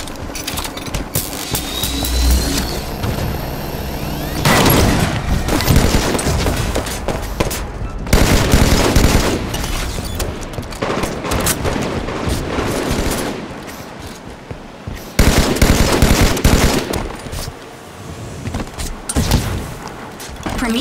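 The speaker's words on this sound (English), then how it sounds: "Hostile fire!" Halo 5 Warzone firefight on the Skirmish at Darkstar map, with loud, nearly continuous automatic fire, bursts and explosive hits crowding the whole stretch and a few surging peaks, with no voices over it.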